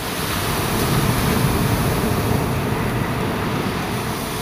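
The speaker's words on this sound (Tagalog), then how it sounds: "Naabot ng malalaking alon" Large waves break along a shore in a steady, loud, continuous roar of surf with a rumbling low end and wind noise, no distinct individual crashes standing out.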